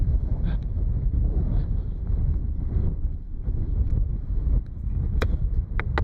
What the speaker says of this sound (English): Man, it's so windy though.